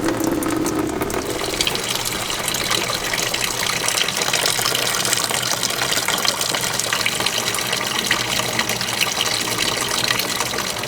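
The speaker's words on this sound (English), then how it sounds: "radiator is almost done draining" Coolant drains from the radiator of a Ford F53 motorhome chassis with a 6.8L Triton V10 into a pan, a steady close splashing gush that runs without a break.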